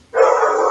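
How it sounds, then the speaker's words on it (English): A single sustained dog bark or yelp, loud and close, cut off at the end. "Sorry for the dogs barking in the background."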